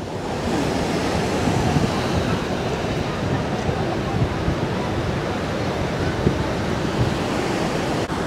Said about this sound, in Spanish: Entonces acá en Los Ángeles esta cascada es más grande.